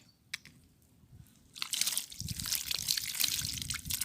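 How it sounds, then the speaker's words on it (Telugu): After a quiet start, water splashes and trickles steadily onto soil over newly planted lily bulbs for a few seconds, close and moderately loud. "కొంచెం వాటర్ అయితే ఇద్దాము"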